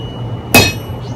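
One sharp, loud metallic clang of a blacksmith's hammer striking a nail on the hardy, with a bright ringing tail that fades over the next half second.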